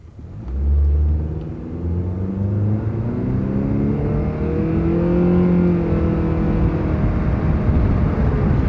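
A 2.4 liter non-turbo Honda engine with a CVT revs up smoothly and steadily, its pitch rising in one continuous climb with a low rumble, no gear shifts, heard from inside the car.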